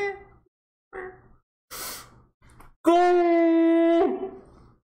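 A man yawning, a drawn-out voiced, tonal groan that swells and then trails off in a breathy exhale, preceded by short breathy sighs and murmurs, close to the microphone.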